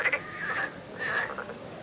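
Another frog croaking by an urban stream in May during mating calls: two drawn-out, buzzing croaks separated by a brief pause, moderately near and without speech.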